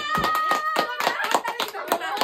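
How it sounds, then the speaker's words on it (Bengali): Family members clap their hands in quick bursts of sharp claps that repeat through the clip. Voices overlap with the clapping. "হাততালি, হাততালি, হাততালি"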